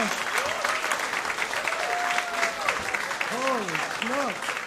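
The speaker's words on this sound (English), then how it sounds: "Give them both a big round of applause." Audience applause at an Atlanta magic show, steady crowd clapping with a voice talking over it throughout.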